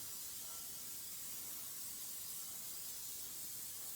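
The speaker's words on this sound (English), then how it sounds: "And spray it all over." An aerosol spray can hisses continuously over a charcoal portrait, a steady close, even spray with no breaks or voices.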